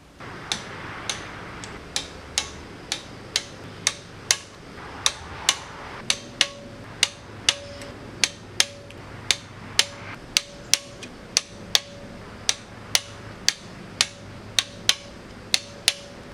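Torque wrench clicking repeatedly while tightening intake manifold bolts on a Ford 351M engine with an Edelbrock Performer 400 intake, producing a steady series of sharp, close metallic ratchet ticks at a brisk even pace.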